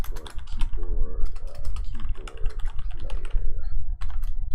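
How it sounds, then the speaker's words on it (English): Rapid typing on a computer keyboard during a coding session, dense clicky keystrokes in bursts with brief pauses, close and fairly loud over a low background hum. "Oh man, I'm having a lot of trouble typing today."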